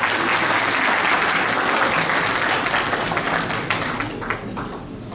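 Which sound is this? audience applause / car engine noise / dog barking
audience applause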